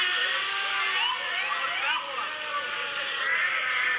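A voice imitates a 1940s fire truck siren, a sustained wavering wail that rises and falls continuously for a few seconds.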